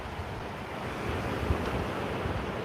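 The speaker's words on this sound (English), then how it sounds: "almost soothing listening to these waves break." Ocean waves break against the cliffs at Rancho Palos Verdes, California, as a steady low rumble of surf mixed with wind. The wash stays continuous and fairly loud, with no voices.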